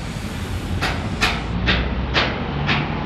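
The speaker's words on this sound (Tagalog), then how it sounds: "Ayan Ayan, LRT na po yan" LRT light rail train running beside a road near a construction site, a steady rumbling roar with rhythmic hissing wheel clacks or bursts repeating about every half second, fairly close and loud, no voices.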